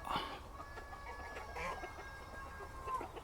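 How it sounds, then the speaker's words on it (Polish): Roosters chase a hen around a farmyard, with repeated close clucks and short squawking calls rising over low outdoor background noise for a few seconds. "dwa koguty za jedną kurą"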